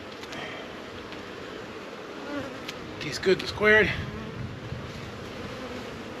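Riled honey bees hum around an opened hive during an inspection, a steady close drone with individual bees zipping past, while a person briefly speaks over it.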